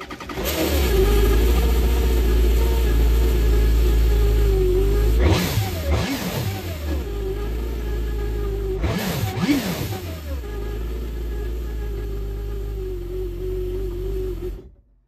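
A Kawasaki jet ski engine fitted with an aftermarket fuel pump kit fires up and settles into a loud, steady idle, with two brief revs blipping midway before it shuts off near the end.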